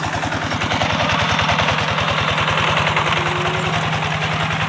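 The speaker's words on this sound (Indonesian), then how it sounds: "Bapak traktor sedang menjalankan tugasnya sesuai identitas pemilik tanah." A tractor working a flooded rice field, its engine chugging in a steady, rapid knocking rhythm, loud and close, running continuously throughout without voices.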